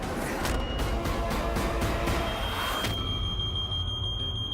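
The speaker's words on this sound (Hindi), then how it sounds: "सर ये फायर अलार्म है।" A building fire alarm goes off in a Hindi TV drama, giving a steady high electronic tone with repeated pulsing bursts that hold loud throughout and then settle into a continuous ring.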